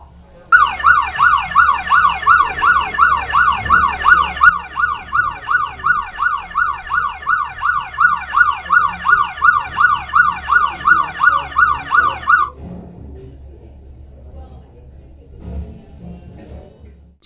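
A loud wailing siren cycles rapidly and steadily for about twelve seconds, then cuts off abruptly, leaving quieter background rumble.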